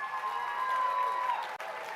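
Sustained applause and cheering from a crowd at an Alberta NDP leadership event, a steady wash of clapping with a few raised voices, briefly cutting out near the end.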